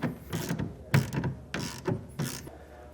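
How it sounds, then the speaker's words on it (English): A ratchet fitted with a 1/2 inch socket tightens a clamp on a TruXedo Sentry CT hard tonneau cover on a 2024 Ford pickup, giving four or five short bursts of quick clicking with brief pauses between them, close and fairly quiet. "using a 1/2 inch socket, I'm going to tighten it up just a little bit, just so it can hold itself"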